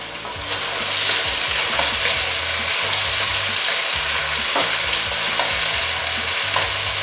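Chopped bell peppers sizzle and fry steadily in a pan with chicken and a tomato masala, with occasional stirring clinks over a continuous loud hiss.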